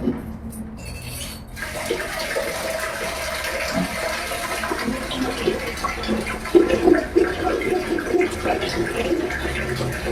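Water gushing steadily from a faucet, a continuous rushing sound that fills the space, fairly close and loud.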